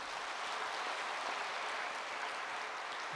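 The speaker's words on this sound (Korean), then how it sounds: "우리 박수로 축복하겠습니다" A church congregation applauding during a Sunday service to bless a newly married couple, a steady wash of clapping that is fairly faint and continuous, with no talk over it.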